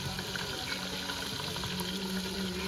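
Water bubbles and hisses steadily in a pot over a wood fire, with turmeric cooking, a dense, constant simmering rumble heard up close with no talking.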